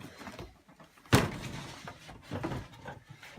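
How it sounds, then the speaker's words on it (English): A cabin door closes with a single sharp thud, followed by faint knocking and handling sounds at a moderate distance. "Put everything back, close that door."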